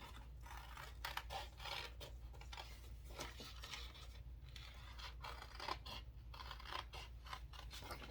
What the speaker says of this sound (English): you want to have the scissors follow the edge of that circle very carefully